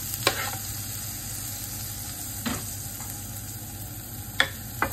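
Garlic fries gently in cooking oil and melted butter in a pan, a steady low sizzle with a few sharp stirring clinks and scrapes at intervals, close by with no talking.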